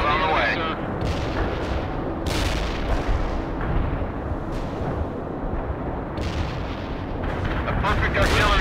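Artillery shells firing and exploding in the World in Conflict video game: loud, deep blasts and booming impacts land one after another in a continuous barrage with rumbling aftershocks, and voices speak briefly amid the shelling.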